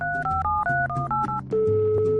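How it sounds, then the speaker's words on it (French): Touch-tone telephone keypad dialing a number: a quick run of short two-note beeps followed by a longer held tone, loud and close with no talking. "Je me suis précipité sur le téléphone dans le couloir et j'ai composé le numéro."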